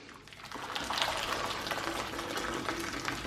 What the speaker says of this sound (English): going to put some boiled water, just about cover it